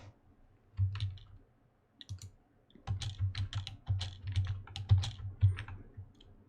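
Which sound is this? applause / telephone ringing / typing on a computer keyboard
typing on a computer keyboard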